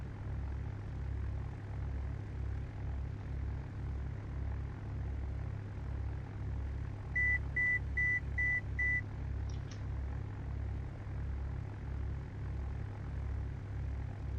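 Simulated propeller aircraft taxiing in Microsoft Flight Simulator X, a steady pulsing low engine drone with a short run of five cockpit beeps partway through, no talking.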